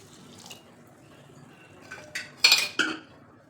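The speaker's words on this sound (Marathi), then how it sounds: "ही उडदाची डाळ त्यामध्ये घालायचे मेथी दाणा आणि हे तीन चार वेळा स्वच्छ धुवून घ्यायचे" Urad dal and fenugreek seeds being rinsed in water in a steel vessel, with soft swishing that builds into a few sharp clinks and splashes near the end. Close and moderately loud, with no talking.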